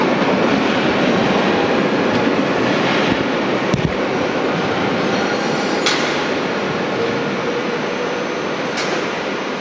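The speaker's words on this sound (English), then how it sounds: "Oh, there goes the train." A train passes on rails as a loud, continuous rumble with clattering wheel noise, close and steady throughout, with no speech.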